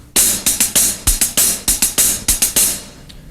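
Drums play a one-beat ostinato of an 8th note followed by two 16th notes, repeated in a tight, even rhythm with bright cymbal hits on each group, loud and close with a short tail.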